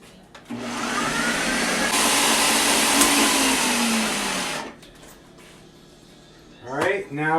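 A loud electric mixer runs steadily for about four seconds while blending keto chocolate cake batter with cocoa powder, then cuts off; a voice speaks briefly near the end.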